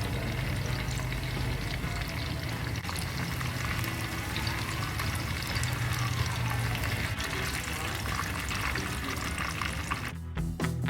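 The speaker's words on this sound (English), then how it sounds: "Fry both the sides for 2 minutes in a high flame or medium high flame" Prawns fry in hot oil over a high or medium-high flame, sending up a steady, dense sizzle that holds close and loud for the whole stretch, with a brief dip near the end and no talking.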